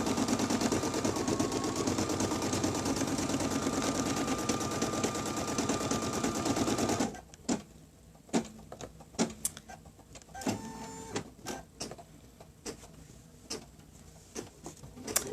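An embroidery machine stitching out a Betsy Ross flag keyfob design, a fast, steady mechanical whir for about seven seconds, then it stops and only scattered clicks and handling taps remain.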